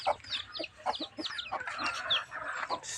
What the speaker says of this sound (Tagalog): Yung manok papa guys, oh.